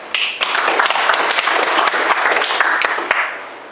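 An audience at a founding preparatory meeting of a Yoon clan youth association applauds in a brisk, close burst of many clapping hands that fades at the end.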